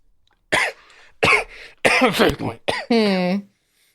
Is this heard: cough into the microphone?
yes